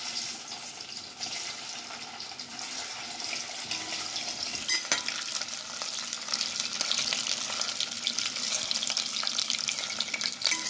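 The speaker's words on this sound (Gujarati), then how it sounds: "હવે આપણે આ બટાકા આમાં સેલો ફ્રાય કરી લઈશું." Potatoes shallow frying in oil for Kashmiri dum aloo, a steady bright sizzle and crackle running throughout with faint clinks and stirring, heard close with no talk.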